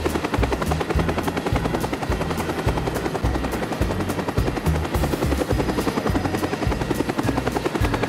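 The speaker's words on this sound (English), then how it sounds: "Helicopter." A helicopter's rotor thumps in a steady rapid pulse, loud and continuous throughout.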